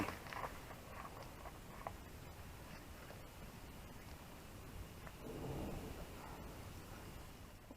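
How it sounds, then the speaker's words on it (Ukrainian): Steady crackling and sizzling of oil heating in a cauldron over a barbecue grill, a dense patter of tiny pops that swells a little near the end. "Олійка наша вже кипить."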